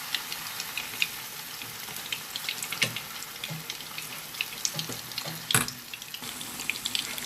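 Cauliflower croquettes fry in a pan of oil with a steady close crackling sizzle, scattered pops, and a few louder clacks of a utensil against the pan.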